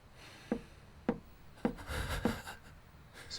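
Four sharp, evenly spaced knocks on a wooden door in the horror video game Paralyzis, close by and fairly loud, over a low background hum.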